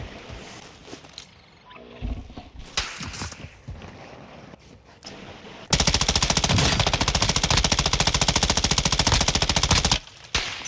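Rapid machine gun fire bursts out in a shooter game on Ashika Island: a long, loud, continuous rattling stream, preceded by scattered single shots and game noise.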